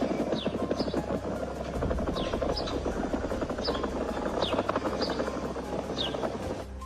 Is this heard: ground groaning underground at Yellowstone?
yes